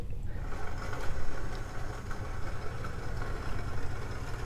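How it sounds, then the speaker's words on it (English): A very old LEGO Technic motor at about half power drives a LEGO loop roller coaster, producing a steady, slightly fluttering mechanical whir. "I've put in a very old, and I mean very old, Technic motor to make that thing go"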